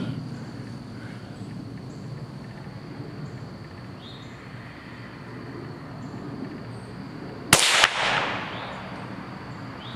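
A single .22 LR Stinger round fired outdoors, one sharp loud crack with a brief ringing tail, standing out against a quiet bed of insect chirping.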